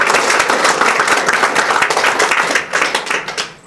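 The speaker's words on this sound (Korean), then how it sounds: "박수 한번 힘차게 보내주세요" An audience at a Korean international diplomacy and security forum gives a loud burst of applause, many hands clapping in a thick continuous roar that thins out and fades near the end.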